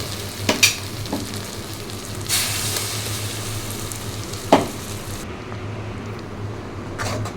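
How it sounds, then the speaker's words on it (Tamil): Tomato paste sizzles and sautés with onions in a pan, a continuous frying hiss broken by a few sharp stirring scrapes and clatters. "நல்லா வணக்கிக்கலாம். பச்சை வாசம் போகிற அளவுக்கு நல்லா வணக்கிக்கலாம்."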